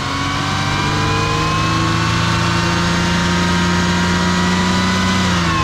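Truck engine revving up and holding at a steady, loud drone with sustained harmonic tones, a slight pitch rise partway through, no voices.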